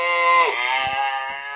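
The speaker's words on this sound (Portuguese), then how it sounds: "É, a vaca é essa." A cow moos in one long, loud, drawn-out call that dips in pitch midway, heard close and clear with no talk over it, in a farm setting.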